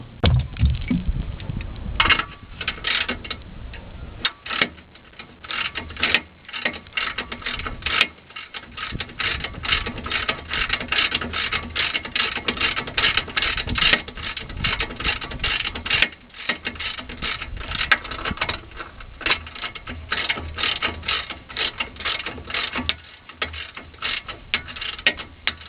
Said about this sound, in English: Now let's return to the bottom shock mount and tighten up the 17mm bolt.